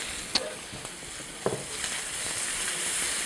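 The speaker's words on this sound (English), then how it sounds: "The garlic has come to a sizzle." Prawns and garlic sizzle quietly and steadily in a hot frying pan with oil, with a few sharp pops and crackles breaking through the hiss.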